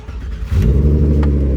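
A Mk1 Volkswagen with a swapped VR6 engine cranks and catches, then settles into a loud, steady rumbling idle that swells slightly as it revs, close by.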